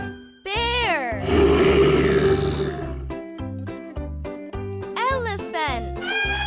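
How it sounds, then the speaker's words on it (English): A cartoon bear gives a long, loud, growling roar in a children's zoo animal-sound game, framed by short chiming game tones before and after. "Bear."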